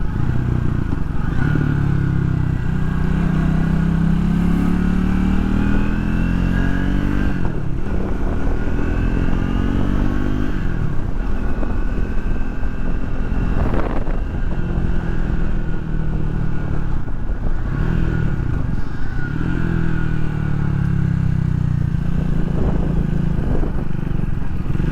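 A 2024 Triumph Speed 400 motorcycle is ridden on the road, its engine droning steadily and rising and falling in pitch through gear changes, with wind rush throughout and no talking.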